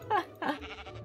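Two short nasal bleats from a sheep in Minecraft, close and fairly quiet, the second slightly longer with a trailing wobble.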